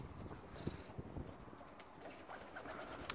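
Racing pigeons cooing softly in a loft, faint low coos and rustling with occasional light taps, quiet and fairly close.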